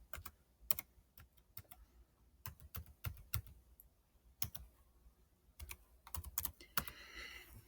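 Typing a long library card number on a keyboard while setting up the Libby library app: a quick run of close, crisp key clicks in irregular bursts, with no talking.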